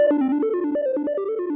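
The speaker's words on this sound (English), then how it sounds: "I drew out my melody on the step sequencer here" A synth patch from the free Helm software synthesizer plays a quick stepped melody from its step sequencer, bright tonal notes changing pitch in rapid succession, loud and alone without speech.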